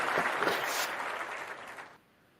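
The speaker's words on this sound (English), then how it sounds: "We got some real applause." Short burst of applause for a guest on a sports debate podcast, dense broadband patter fairly loud at first, then thinning and cutting off abruptly near the end.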